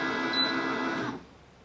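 A new heat press running after its button is pushed, giving a steady mechanical hum with whining tones that cuts off abruptly after about a second and leaves near silence.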